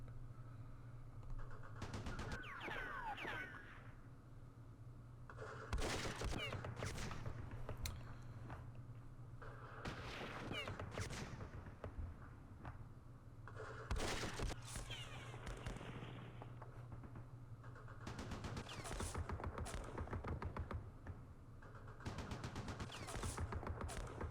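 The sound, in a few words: gunfire in the Campaign Series Vietnam video game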